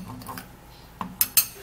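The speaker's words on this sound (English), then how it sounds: "then we'll stir up the ingredients really good" A spoon stirs a rice powder mixture in a bowl, scraping softly and then striking the side in a few quick clinks near the end of a brief burst, with no talking.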